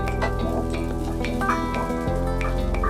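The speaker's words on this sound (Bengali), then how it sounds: "আমরা পেঁয়াজটাকে আর একটু কিছুক্ষণ ভেজে নিব" Onions frying in a pan with salt, ginger and garlic give a steady, dense sizzle, with occasional stirring scrapes and a faint tonal hum running underneath throughout.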